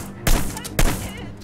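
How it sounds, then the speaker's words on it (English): A sniper rifle fired in a video game: two sharp, loud reports about half a second apart, each followed by a brief ringing decay. "Ma'am, please wait for a second while I get out my sniper rifle"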